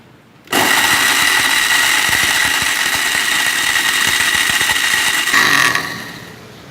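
An electric kitchen grinder grinding dried mango pieces into amchur powder: a loud, steady motor whine starts abruptly, runs for about five seconds with rattling, then winds down.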